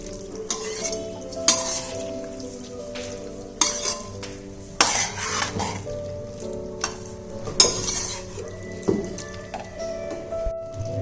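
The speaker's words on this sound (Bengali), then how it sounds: "জলটা দিয়ে ভালো করে সবজিগুলো আর মশলাটা মিশিয়ে নিচ্ছি আমি।" Vegetables, spices and water are stirred in a pan for a vegetarian chorchori, with a spoon scraping and clinking against the pan in repeated strokes over a soft, low simmering sizzle.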